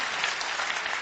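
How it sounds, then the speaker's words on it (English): Applause from a conference audience at a technology event on AI innovation, a steady dense clapping that fills the whole moment without a break. "I think this is worth an applause."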